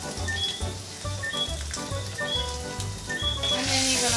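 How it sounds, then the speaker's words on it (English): Tofu fries in a pan seasoned with salt, Mrs. Dash, basil and paprika, giving a steady, close crackling sizzle throughout with a low rhythmic thumping underneath. "leave it to fry each time for about 5 minutes until you get it how you want it"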